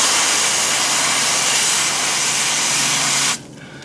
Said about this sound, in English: when I spray it off camera like I'm doing now